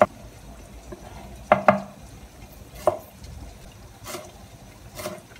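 Garlic cut with a knife on a board while cooking a sweet-and-sour Jewish-style meat dish: a few scattered knife taps and clacks over a quiet kitchen background with faint liquid and stirring noises.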